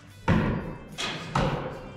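An archer shoots during a bow training session, and three dull thumps follow one another about a second apart, close and fairly loud, with no talking.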